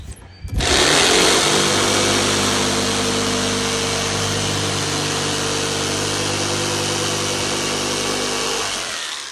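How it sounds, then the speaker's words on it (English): A jigsaw cuts out an opening in an RV for an air conditioner box, starting abruptly and buzzing loud and steady for several seconds before easing slightly. "Made my box, and I'm going to cut it out. And I prefer to use a jigsaw."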